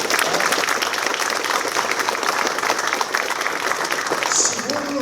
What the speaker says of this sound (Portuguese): Uma salva de palmas para esses garotão